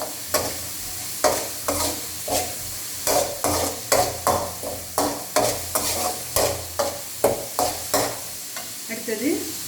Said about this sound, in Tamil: நம்ம நெத்திலி பொரிச்ச அதே எண்ணெயிலே தான் நம்ம இதை போட்டு வதக்கணும்